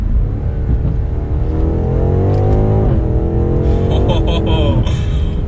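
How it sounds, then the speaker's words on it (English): A 2022 BMW M8 Competition Gran Coupe's V8 exhaust gives a deep, steady rumble, rising and falling in pitch as it's revved through a downshift, loud and close. "if we downshift, we'll give it a little bit of gas and listen to this V8"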